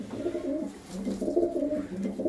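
Pigeons of good flying breeds kept on a rooftop coo in low, throaty, overlapping calls that continue steadily throughout, fairly close with no talking.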